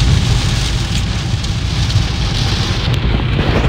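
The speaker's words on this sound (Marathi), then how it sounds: "हे बघा कसला पाऊस आहे" Heavy rain pours steadily at night on a road journey toward Gujarat, a dense, loud, unbroken hiss and drumming close by with a low rumbling underneath, no voices.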